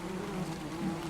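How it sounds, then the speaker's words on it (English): Bees buzzing in the video game Ark: Survival Evolved, a continuous wavering drone with shifting pitch, close and moderately loud, heard alone. "You're so afraid of just bees."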